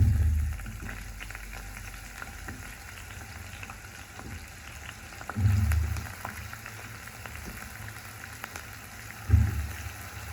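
Potato slices fry with cumin in a pan, a steady close sizzle with a few louder bursts of crackling as the slices hit the hot oil, with no voices.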